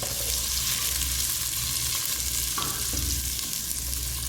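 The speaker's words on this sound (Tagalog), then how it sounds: "Hulog na natin ang ating bawang. Lutuin muna natin ang konting sibuyas at ang bawang" Garlic and a little onion sizzle and fry steadily in a pan with constant bright crackle, with a faint scrape of stirring partway through while sautéing for a Filipino mung bean dish.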